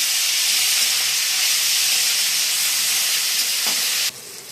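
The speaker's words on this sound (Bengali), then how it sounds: "টমেটোগুলো অনেকক্ষণ থেকে নাড়তে হবে, একদম গলা গলা হয়ে যাবে টমেটোগুলো।" Tomatoes cooking down in a hot pan make a loud, constant close hiss of steam and sizzle that cuts off abruptly near the end.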